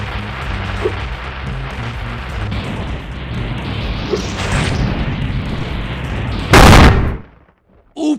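A loud, sharp explosion from Spyro: Year of the Dragon, set off by lit rockets, bursts out over busy game music and sound effects, then quickly dies away into near silence.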